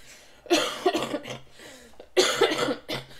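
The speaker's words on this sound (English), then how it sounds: "Hopefully by the end of the year, my coughing is going to be gone." Two close bouts of harsh coughing, each a cluster of several coughs, separated by a brief quiet pause.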